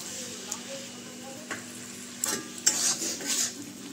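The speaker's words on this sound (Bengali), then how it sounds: "এবার আমি মশলাটাকে কষবো ভালো করে" Spice paste for prawn curry being stir-fried in a pan, a steady close sizzle with occasional spatula scrapes and clinks against the metal.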